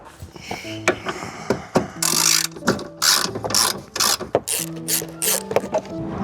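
A ratchet clicks in quick rhythmic runs while backing screws out near a car's radiator and crash bar, close and crisp, interspersed with pauses and faint background hum.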